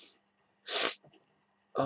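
A person with a cold gives a sharp, breathy sneeze-like burst up close, then a short sniff, with another burst starting at the very end; quiet pauses fall between them.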